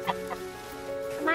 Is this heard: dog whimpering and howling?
no